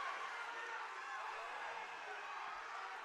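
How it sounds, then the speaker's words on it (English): Crowd cheering at a high school wrestling match in a gym, a steady, distant roar of many voices with shouts mixed in, fairly faint overall. "Listen to this crowd, folks."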